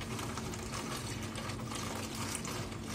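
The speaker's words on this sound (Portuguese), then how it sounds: "Aí jogo água do filtro." Filtered water pours steadily from a kitchen water filter into a bowl in a home kitchen, a continuous close splashing gush with no break and no talk.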